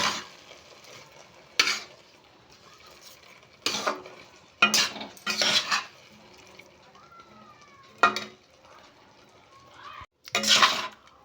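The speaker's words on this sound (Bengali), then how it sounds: "দেব 200 গ্রাম খোয়া ক্ষীর। দিয়ে এটা ভালো করে মিশিয়ে নেব" A spoon stirs grated carrot halwa with milk, sugar and khoya in a pan, giving repeated scraping bursts with quiet gaps between, close and fairly loud.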